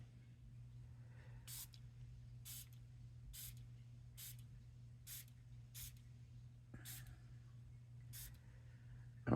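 A spray bottle spritzes onto Nuvo shimmer powder, with about eight short, soft hissing bursts at steady intervals over a low background hum, faint and close.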